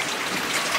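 Rain falls at a cozy barn cottage during Thanksgiving week, a close, even hiss of drops with no break.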